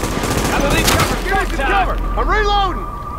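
Bursts of heavy automatic gunfire in The Division, loud and close, crackle through the opening seconds, followed by rising and falling electronic weapon tones and game effects.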